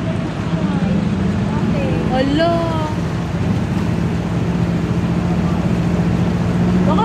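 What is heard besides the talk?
jeep driving through deep floodwater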